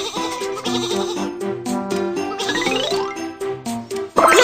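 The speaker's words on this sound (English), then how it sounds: "Some sheep are on the train track." Cartoon sheep bleat on the train track in a panda train-driving video game, set among bright chiming game music and jingly tones that carry through the whole few seconds.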